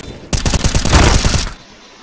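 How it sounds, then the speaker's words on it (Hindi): Rapid automatic gunfire in the video game CS:GO, a loud burst of about a dozen closely spaced shots lasting just over a second, then fading into quiet game ambience. "शॉट कर रहे हैं भाई"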